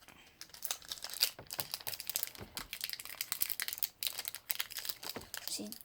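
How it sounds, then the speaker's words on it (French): A Pokémon card booster pack wrapper is torn open, giving continuous close foil crinkling and crumpling with sharp rustles, while voices talk in French alongside. "je vais ouvrir le deuxième booster"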